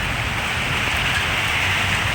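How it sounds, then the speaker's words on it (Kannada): Heavy rain roars steadily and close at Karnaprayag, Uttarakhand, a dense unbroken downpour with no voices. "ಮಳೆ ಮಾತ್ರ ಸಿಕ್ಕಾಪಟ್ಟೆ ಜೋರಾಗಿ ಬರ್ತಾ ಇದೆ."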